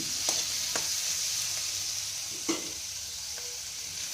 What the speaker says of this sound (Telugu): కొంచెం వేగుతీలే ఉల్లిపాయ ముక్కలని.